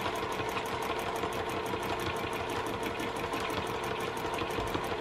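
A sewing machine runs steadily through free motion quilting, outlining close around hand embroidered stitches on fabric, its rapid even needle chatter continuing without pause, close and fairly loud.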